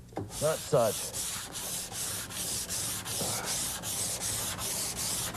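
Steady back-and-forth rasping of sandpaper rubbed by hand over wood, in even rhythmic strokes after a brief squeak at the start.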